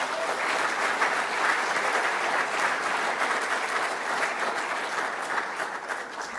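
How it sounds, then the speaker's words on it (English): Sustained audience applause, a dense even wash of many hands clapping at steady loudness throughout, with no voices over it. "I was going to ask for a round of applause"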